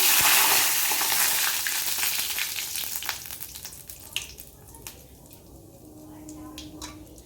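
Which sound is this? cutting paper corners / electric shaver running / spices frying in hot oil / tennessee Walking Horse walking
spices frying in hot oil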